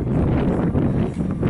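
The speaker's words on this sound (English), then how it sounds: "Kind of windy out here." Wind blows hard outdoors at a large Tesla charging station, a constant low rumbling buffet against the microphone, loud and unbroken for the whole short moment.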